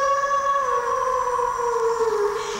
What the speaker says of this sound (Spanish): Todavía en noche de luna llena se escucha el aullido del lobizón.